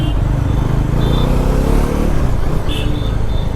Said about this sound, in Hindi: भाई बाइक एकदम चिपक के चल रही है